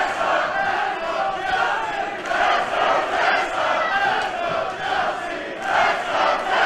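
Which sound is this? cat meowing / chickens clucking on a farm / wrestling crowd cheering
wrestling crowd cheering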